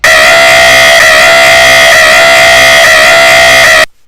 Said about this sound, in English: The subtle alarm.